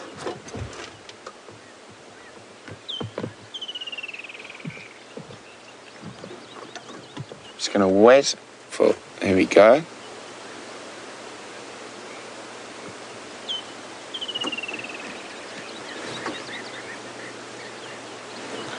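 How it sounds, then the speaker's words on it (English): Birds calling in the bush at Djuma Game Reserve, faint scattered chirps and whistles over a soft hiss, with a louder burst of calls midway and brief spoken words. "So let's see how many bird species we can hear."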